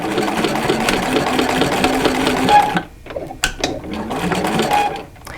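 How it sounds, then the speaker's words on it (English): A sewing machine stitches in the ditch through quilted fabric, running steadily and loudly, then pausing and restarting in short rattling bursts. No one talks. "just stitch in the ditch like you would when you're quilting"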